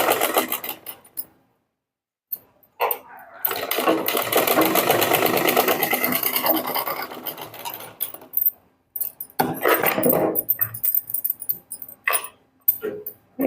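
A sewing machine stitches piping along a blouse neck in several close bursts of rapid, even mechanical chatter, broken by short pauses and quieter handling between runs.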